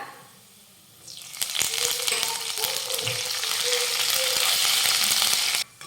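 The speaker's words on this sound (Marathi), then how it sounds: "तर तांबूस रंगावर लसूण छान परतून घेतला की आता यामध्ये घालूयात कढीपत्ता" Curry leaves hit hot oil with browned garlic in a pan for a cabbage and dal stir-fry, bursting into a loud, dense sizzle after a quieter second that crackles steadily until it cuts off near the end.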